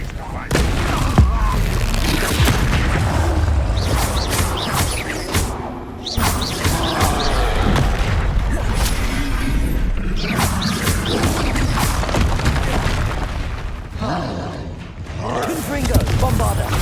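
Spell explosions from Confringo and Bombarda in Hogwarts Legacy, a dense, continuous barrage of booms, crashes and mechanical combat noise with brief lulls, loud throughout.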